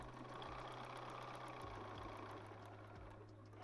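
A sewing machine stitches foundation paper piecing along the fabric edge, giving a steady, low motor hum with quick, regular needle ticks, fairly quiet and alone.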